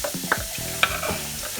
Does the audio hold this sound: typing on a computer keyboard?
no